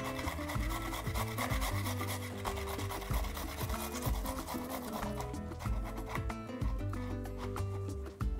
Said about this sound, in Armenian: անմիջապես սխտորն էլ քերենք